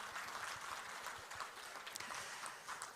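An audience at a small-business innovation network forum launch applauds, a dense, continuous wash of many hands clapping that holds at a moderate level throughout, with no talking over it.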